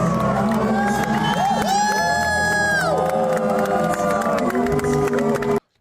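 A Eurovision Song Contest rehearsal audience fills the hall with loud, continuous crowd noise of boos and cheers blending with whoops and shouts, cutting off abruptly at the end.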